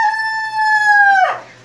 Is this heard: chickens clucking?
yes